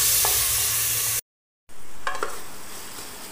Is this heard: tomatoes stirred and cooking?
yes